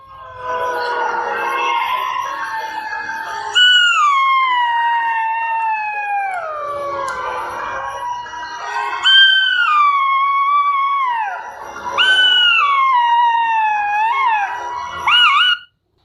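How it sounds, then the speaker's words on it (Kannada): Foxes howling together in a folk tale, long rising and falling wails that overlap in several waves, loud and close, with short pauses between bursts and no talking. "ಒಟ್ಟಿಗೆ ಊಳಿಡಲು ಪ್ರಾರಂಭಿಸಿದವು"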